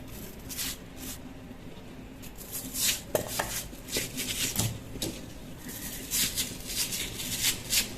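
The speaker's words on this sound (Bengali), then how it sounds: "এটাও কেটে নেব পিস পিস করে।" Watermelon is sliced into pieces in a bowl, with soft, wet cutting strokes and light knife taps against the dish in an uneven rhythm, close and fairly quiet.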